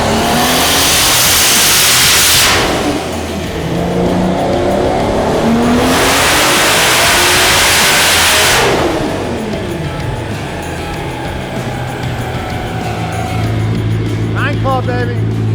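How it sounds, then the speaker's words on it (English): A tuned race car engine roars loudly on a dyno, with sustained high-revving runs separated by brief drops and a rough, steady drone throughout. "After John is making a pull, this is what reads the horsepower and torque numbers"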